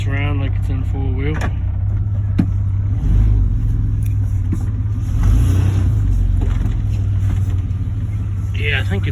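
A 1991 Chevy K1500 pickup drives in four-wheel drive, its engine a steady low drone with bumps and thumps from the truck hopping, heard from inside the cab; someone talks over it at the start and end.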